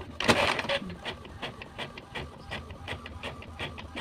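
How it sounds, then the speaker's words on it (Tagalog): A printer mechanism runs with a rhythmic series of short clicking, whirring pulses, fairly close and steady. "Motor normal na akong printer."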